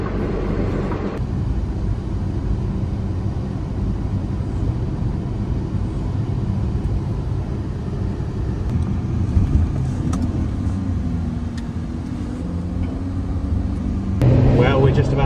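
An Aston Martin super tourer cruising along French Riviera roads, its steady engine and road rumble continuous and close throughout, with people talking inside the car over it.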